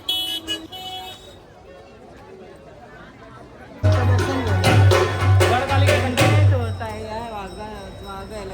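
Crowd babble at the busy Gadkalika temple in Ujjain, with chatter, close voices and a car horn honking in bursts; quiet for the first few seconds, then loud, dense voices take over.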